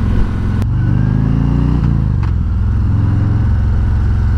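A 2019 Harley-Davidson Road King fitted with a Rinehart DBX45 slip-on exhaust accelerates in second gear, its loud, close V-twin rumble climbing in pitch, dropping briefly at a shift, then pulling steadily upward again.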